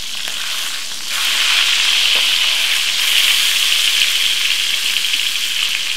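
Tuna sears in a hot pan with a loud, steady sizzle that swells after a second and holds bright and close throughout, no voices.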